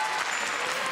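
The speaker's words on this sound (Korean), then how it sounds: "우리 은종 친구에게 정말 다시 없는 큰 박수 보내주세요." Studio audience and students on the KBS quiz show Golden Bell Challenge, taped at Jinyang High School, give a dense, steady burst of applause, a full wash of many hands clapping at once with no talk.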